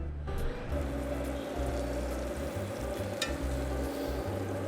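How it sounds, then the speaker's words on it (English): Thin fish fillets fry in a pan on a stove top, giving a steady close sizzle with low bubbling and crackle that holds throughout without a voice. "if it's thin like the fillets I have today, it'll cook on the stove top"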